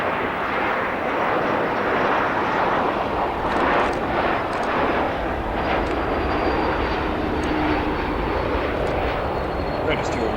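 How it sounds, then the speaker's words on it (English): A Delta Airlines Airbus A220 jet roars steadily at O'Hare International Airport. The broad engine rush stays loud and continuous, and someone talks over it. "We're going to come over here to our left, a Delta Airlines Airbus A220."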